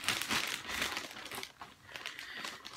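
Cross stitch fabric folded up by hand, a soft close rustle and crinkle that fades briefly and picks up again, with no talk.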